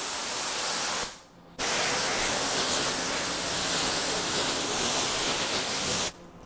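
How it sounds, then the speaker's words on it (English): A foam cannon sprays SB3 soap onto a car, top to bottom, in a steady, loud hiss, cutting off briefly once and resuming, then stopping again near the end. "And then again, we're just gonna spray top to bottom."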